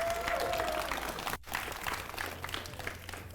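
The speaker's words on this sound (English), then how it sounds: "Again, round of applause for them." Audience at the SDC Radiant Rumble 2024 esports finals applauds the winning team, a moderate spread of clapping in a hall with a brief cut partway through, continuing more softly afterward.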